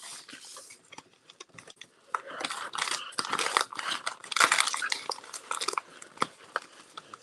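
A bubble wrap mailer is torn and mangled open by hand, bursts of crinkly plastic ripping and rustling, close and loud, rising through the middle of the stretch.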